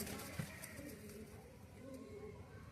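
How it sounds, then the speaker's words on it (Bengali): Andhra pigeons murmur with soft, quiet coos inside a pigeon loft, low and steady against a faint background hum. "এইগুলো সব আন্ধ্রা পায়রা আছে, উনি অন্ধ্রপ্রদেশেই কাজ করে।"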